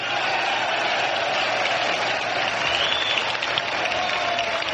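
Dense, sustained applause from members of the Frente Liberal as Tancredo Neves is proclaimed president at the 1985 Electoral College vote, a steady wash of many hands clapping at once with no breaks.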